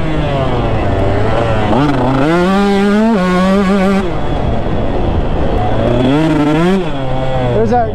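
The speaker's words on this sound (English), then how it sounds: "There's that good old carburetor hesitation, man." A two-stroke dirt bike with rich carburetor jetting revs loudly and unevenly, its pitch surging and dropping with hesitation between bursts of throttle, close and continuous throughout.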